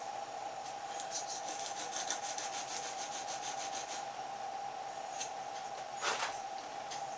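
Medium sandpaper rubbed over a uilleann chanter reed, producing faint, light scraping strokes in a short rhythmic run, then a few isolated rubs against a quiet background hum.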